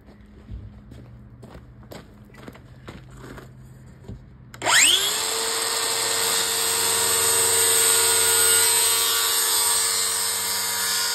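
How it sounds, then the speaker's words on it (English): A circular saw spins up with a sharp whine and cuts through a panel of a Donkey Kong 3 arcade cabinet under restoration, loud and steady after a few light taps and knocks. "Now I can use a circular saw for these two cuts"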